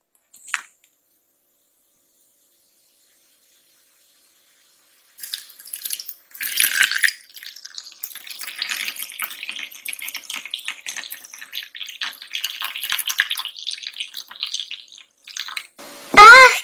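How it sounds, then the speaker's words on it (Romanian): After a brief clink and a pause, water pours and splashes steadily into a Barbie doll's small toy bathtub, running continuously, ending with a louder clatter. "Iar acum să punem apa."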